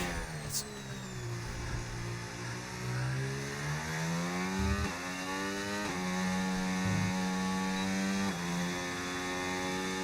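A Red Bull racing car in a racing video game accelerates along the track at the British Grand Prix, its engine whine climbing in pitch through repeated gear shifts, steady and fairly close.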